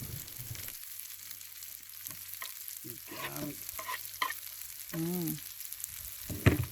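Fish sizzling in a pan over an outdoor fire pit on the South Australian coast, a steady close frying hiss with faint background voices and birdlike chirps.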